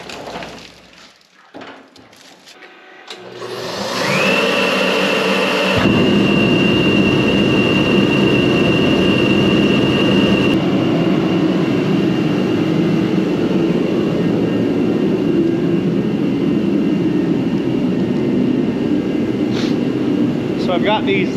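A cold tractor engine that has sat for weeks in freezing temperatures cranks briefly, then fires and settles into a loud, steady running rumble close by, with a whine overhead throughout.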